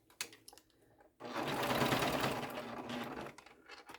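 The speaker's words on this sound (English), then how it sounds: "we are going to put our D-ring on. And I'm just going to baste it right there at the very end." A sewing machine bastes a D-ring onto a fabric wristlet in one close burst of quick, even stitching lasting about two seconds, with a few soft handling clicks before and after.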